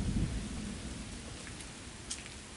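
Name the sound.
rain falling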